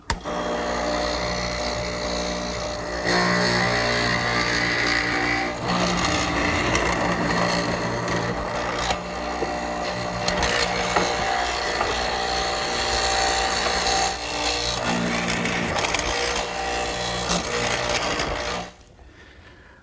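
A hollow chisel mortiser fitted with a 1/2-inch hollow chisel and an inner bit cuts a mortise into a wooden post for a quilt rack. Its steady, loud motor whine runs continuously for about eighteen seconds and then stops abruptly.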